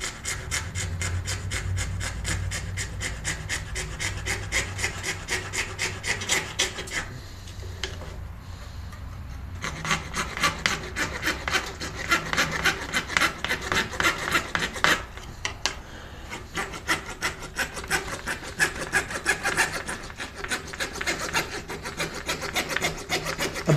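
Hand saw cutting a wooden release-aid template, braced against a nail, with rapid rhythmic rasping strokes, close and loud, pausing briefly twice before resuming.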